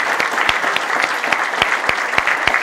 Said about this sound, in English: can we give one more round of applause for Ashley?